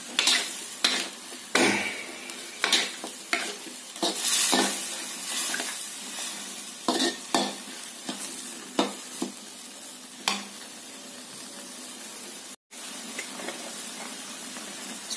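A fish dish for pindang asam kemangi stirred in a pan just after soy sauce goes in: close scraping and clinking strokes at an irregular pace over a steady sizzle, with one abrupt brief dropout near the end.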